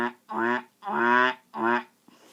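A human voice imitates a duck, producing three throaty quacking calls in a steady rhythm, close and fairly loud, with no other sounds around them.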